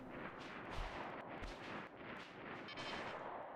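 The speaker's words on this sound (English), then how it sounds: "you're gonna keep hearing machine gun fire" Machine gun fire from the RimWorld video game rattles in continuous, rapid bursts, fairly faint and slightly distant, without any talking.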